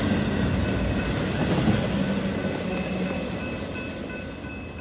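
A Norfolk Southern freight train rolls past at a rail-fanning spot near McCord Park, a steady, loud rumble of railcars with clickety-clack from the wheels and faint squealing, holding constant throughout.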